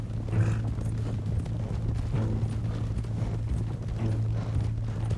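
A horse walks with a steady, even clip-clop of hooves in Red Dead Redemption 2, its footfalls clear and fairly close over a low background hum, with no speech.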